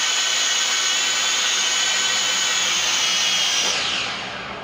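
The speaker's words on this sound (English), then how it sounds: "So we turn on the blades, and all I'm going to do is cut the power." Rotors of a Syma X5C quadcopter drone spinning with a steady high-pitched whine, close and loud, then the power is cut and the whine drops and winds down in the final second.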